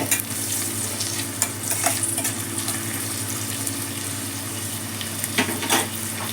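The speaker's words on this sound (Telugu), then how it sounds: "కరివేపాకు మంచిగా ఈ ఉల్లిపాయలు ఇవన్నీ వేగాలండి" Onions and curry leaves frying in a pan give a steady sizzle, with occasional stirring scrapes and crackles up close.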